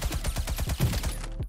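Rapid bursts of AK rifle fire in the online shooter game Krunker.io, a fast repeating rattle of shots that stops near the end, loud and up close with no talking.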